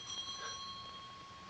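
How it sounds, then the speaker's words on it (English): A bell rings faintly in a Victorian-era house, a steady, sustained metallic tone that holds through the whole moment without other sounds. "Answer the bell."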